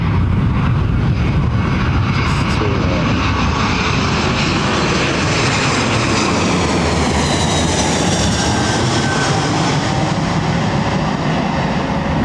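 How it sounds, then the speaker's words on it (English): A jet airliner with IAE engines passes at Heathrow Airport, giving a loud, steady broadband roar that fills the whole stretch without letting up. No one speaks. "That's a IAE powered jet, which I think it is."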